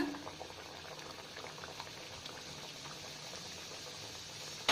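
Puris for pani puri fry in hot oil over a low flame, giving a soft continuous bubbling sizzle with faint crackles, quiet and steady throughout.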